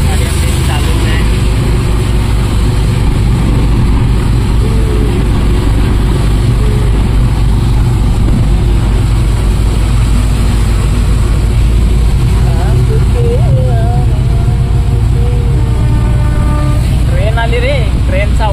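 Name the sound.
car driving along road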